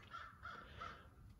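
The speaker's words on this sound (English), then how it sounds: "there's a crow" A crow caws several times outdoors, in steady spaced calls at moderate distance with no talk over it.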